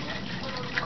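Running water rinses out the first-stage cartridge of a Hexagon hydrogen alkaline water filtration system, a brief, faint, steady hissing splash with no pause.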